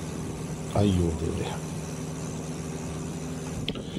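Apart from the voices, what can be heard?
boat engine noise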